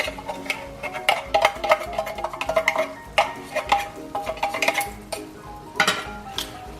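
A metal spoon stirs canned Century tuna with sautéed garlic in a pan, giving a steady run of close clinks and scrapes against the pan with a faint sizzle underneath and no talk.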